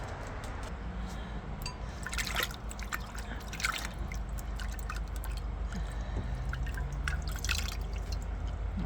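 Lichen-dyed wool is rinsed in a container of water, with soft continuous splashing, trickling and scattered drips that stay quiet and close throughout, and no voices.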